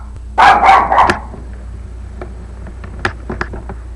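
Dogs give a quick cluster of loud, close barks up front, then fainter scattered yips and clicks trail off afterward.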